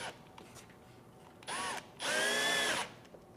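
A power drill drives countersunk screws into a walleye taxidermy mount, with two short whirring bursts, the second longer and louder, close and clear with no talk.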